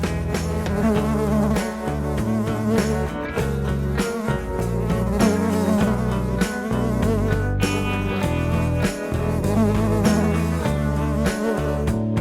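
A bee buzzes steadily and loudly without a break, heard alone with no voices, in a setting about bees carrying pollen between flowers.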